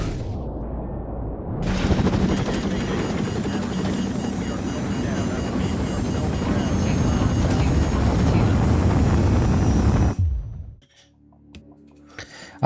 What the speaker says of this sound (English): trying to avoid a chopper above